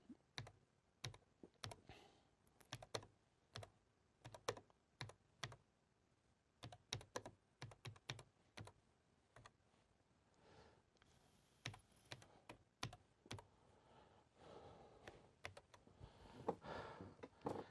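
Keystrokes on a computer keyboard typing into the DeskMate Text word processor, a steady run of close, crisp clicks in quick irregular bursts with short pauses, heard alone without any voices.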